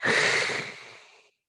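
A voice imitates a breath being drawn in, giving one loud, close, breathy rush that fades out over about a second.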